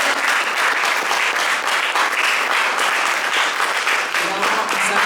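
A church congregation claps steadily and loudly through a service, the applause dense and continuous, with a voice speaking over it.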